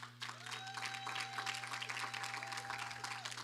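A church congregation claps for an apostle, with brisk, fairly even hand clapping heard at a modest level over a constant low hum from the sound system.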